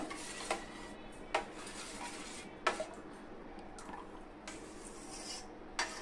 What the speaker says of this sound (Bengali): চামচ দিয়ে আমি এভাবে একটু ভালোভাবে মিশিয়ে নিব।